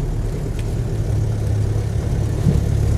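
A Land Rover 90 hardtop, an ex-utilities truck with a standard 2.5-litre normally aspirated diesel, drives along with a steady, loud mid-pitched engine drone and road rumble, holding an even tone with no voices.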